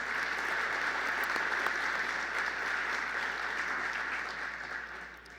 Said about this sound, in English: let's give another round of applause for Lucy's nice rendition